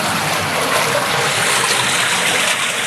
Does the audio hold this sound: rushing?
yes